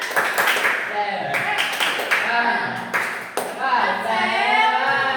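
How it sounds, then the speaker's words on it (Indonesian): Students in a primary science lesson perform a rhythmic clapping cheer, sharp clustered claps mixed with chanting voices that carry the beat throughout. "Tepuk semangat"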